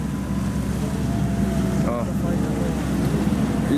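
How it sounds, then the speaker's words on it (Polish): A powerful twin-engine motorboat with two 300-horsepower engines roars past on the water with a steady, loud engine drone and wind buffeting, while a voice briefly speaks. "A tam mamy szybką motorówkę, co ma dwa silniki po 300 koni."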